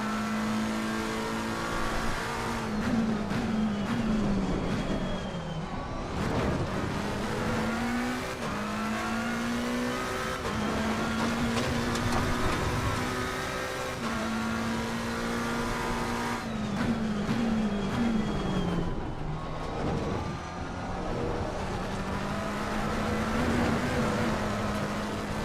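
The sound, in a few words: race car engine revving in Assetto Corsa Competizione video game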